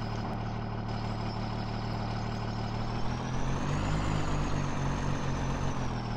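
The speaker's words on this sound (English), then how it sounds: "we're gonna have to grab the pickup here" A pickup truck engine idles in Farming Simulator 17, a steady low mechanical rumble with a whining hum on top. It runs continuously for several seconds and swells slightly toward the end, with no talk over it.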